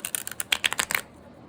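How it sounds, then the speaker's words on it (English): A quick flurry of sharp, crisp riffling clicks from a deck of tarot cards being shuffled close up, stopping abruptly after about a second and leaving near silence. "This deck shuffles much better."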